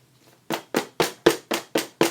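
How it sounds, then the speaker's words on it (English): Seven sharp, evenly spaced thumps sound one after another, pounding bubbles out of something with a clear, close knocking rhythm after a faint start. "I'm pounding out the bubbles right now"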